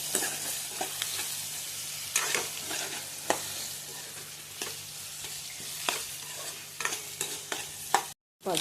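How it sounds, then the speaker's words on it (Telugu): Onions and green chillies fry in a pan for an Andhra-style chicken curry. A steady close sizzle runs throughout, broken by regular scraping taps of stirring, then a brief cut to silence near the end. "బాగా ఎర్రగా వేయించుకోవాలి."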